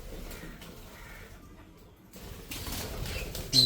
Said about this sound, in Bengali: এই যে দেখুন, পাখিগুলো সব বসে আছে।